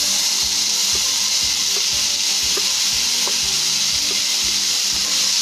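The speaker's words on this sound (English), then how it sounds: "Saute them for 2 to 3 minutes." Chopped tomatoes and onions sautéing in a pan give a loud, unbroken sizzle, with soft scrapes and taps of stirring scattered throughout.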